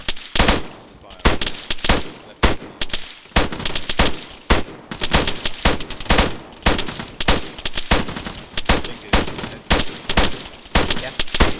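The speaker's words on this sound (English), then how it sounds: "We're taking fire, by the way, guys." Dense, continuous automatic gunfire and rapid bursts from a large-scale multiplayer military game battle, loud and close, with overlapping shots filling the whole stretch.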